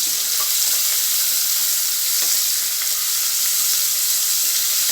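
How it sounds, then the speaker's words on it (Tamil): Sliced onions sauté in hot oil in a pan as coconut milk rice is being prepared, giving off a loud, continuous sizzle with occasional scraping stirs and no talking. "நல்லா வெங்காயம் கொஞ்சம் நேரம் நம்மளுக்கு நல்லா வதங்கட்டும்"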